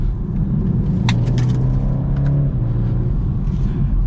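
A 2022 BMW 230i coupe's 4-cylinder engine and exhaust pull hard under acceleration, a loud, close, steady rumble with a rising engine tone.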